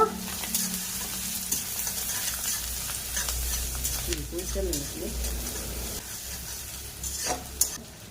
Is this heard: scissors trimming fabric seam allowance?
no